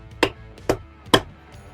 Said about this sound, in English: So let me get a rubber mallet